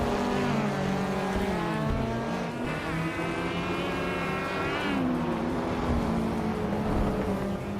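Several race car engines from a racing video game, including a 2006 Peugeot 308, rev and whine in steady loud harmonic tones, pitch sliding up and down through gear changes with no talk.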